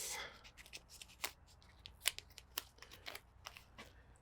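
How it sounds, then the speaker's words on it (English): Adhesive backing is peeled off a part during track modifications to a Husqvarna Vitpilen motorcycle, making quiet, close crackling and tearing bursts in irregular spurts. "We will peel it off."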